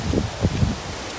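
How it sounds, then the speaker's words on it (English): Wind gusting through garden plants and leaves outdoors near a greenhouse, a soft rustling that swells in a few brief bursts over a low steady breeze. "See, I know you guys can hear that wind."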